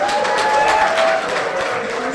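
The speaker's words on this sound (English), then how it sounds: "that does deserve some applause" A reception crowd of bishops and deputies claps in celebration of marriage equality, a broad, steady wash of applause with a faint tonal hum and murmuring voices underneath.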